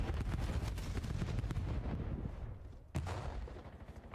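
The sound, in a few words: frag grenades exploding in Call of Duty video game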